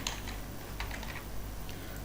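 Keys clatter on a computer keyboard as a username and password are entered, a brief run of close, quick taps with small pauses, no one speaking.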